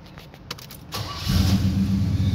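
A 1987 Oldsmobile Cutlass Supreme with Flowmaster exhaust cranks over and fires up about a second in, then settles into a loud, steady, deep idle rumble close by.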